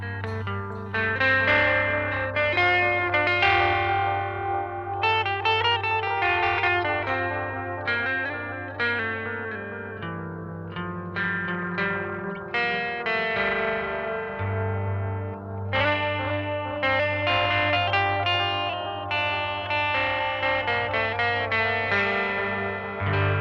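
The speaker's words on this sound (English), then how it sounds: "Let's hear the long mode with some dirt in there" Guitar through an analog delay pedal on its long setting, driven with distortion, playing a continuous run of gritty notes trailed by long, smeared repeats that wash together under a steady low drone, loud and close with no talking.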